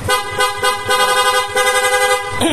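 A Yamaha MT-15 motorcycle horn sounds loud and close in a string of rapid pulsing toots, a steady honking pattern with almost no gaps that cuts off near the end.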